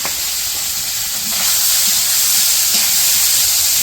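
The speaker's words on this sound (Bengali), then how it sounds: "মাছের মধ্যে পেঁয়াজ আর কাঁচামরিচ একসাথে দিয়ে কড়াই দিয়ে দিব" Fish frying with onion and green chili in a wok gives a loud, continuous hiss and sizzle of hot oil that swells slightly partway through, with no voices.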